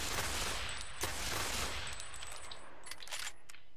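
Automatic gunfire rattles in Ghost Recon Phantoms, several quick bursts of rapid shots with short pauses between them, fairly close and crisp, with no talking over it.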